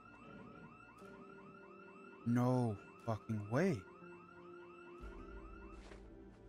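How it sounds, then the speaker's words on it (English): Car alarm going off in the Project Zomboid video game, a steady repeating electronic warble running through the whole stretch, with a man's loud exclamations breaking in partway through. "They set off an alarm."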